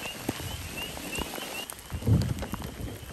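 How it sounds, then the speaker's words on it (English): Rain beginning to fall outdoors beside a pond, with a light scattered patter of drops and a few soft low thumps over a steady background hiss. "And here comes the rain."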